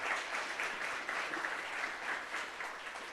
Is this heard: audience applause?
yes